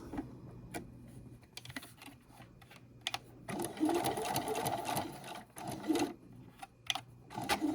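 A sewing machine stitches a zipper panel in short bursts, pausing and restarting, then runs in a longer steady whir; close and clear with no talk.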